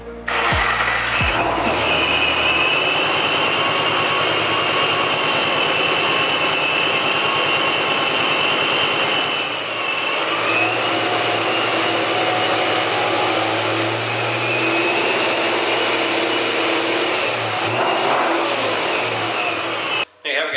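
Car engine with a newly installed catch can idling loudly nearby, with a couple of brief revs that rise and fall in pitch before settling back to a steady run.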